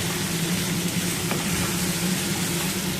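Red chilli powder, ground pepper, garlic paste and ginger paste frying in hot oil, a dense continuous sizzle with a low background hum, steady and close, no talk.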